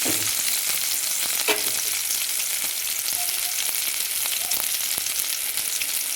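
Small onions and a green chili sauté in hot oil, crackling in a continuous close sizzle with an occasional sharp pop or stir, and no voices.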